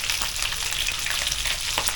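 Bigeye scad fish frying in hot oil in a pan, a steady dense sizzle with crackling pops, loud and continuous, no voices.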